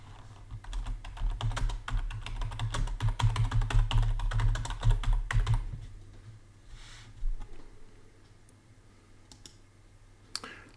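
Rapid clattering keystrokes on a computer keyboard for several seconds, close and fairly loud over a low hum, then slowing to a few scattered taps and clicks before trailing off.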